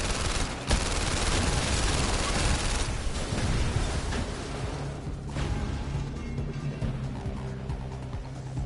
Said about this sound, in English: This gun's easier to shoot.